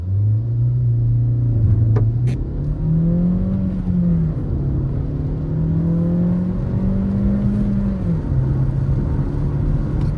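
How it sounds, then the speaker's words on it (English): Škoda Octavia 1.5 TSI 110 kW making a launch-control start on a wet road with summer tires in cold weather, a loud close engine drone climbing through several gear changes, each upshift briefly dropping the pitch before it rises again. "number 2, launch control test. In the wet, summer tires, 2 degrees out."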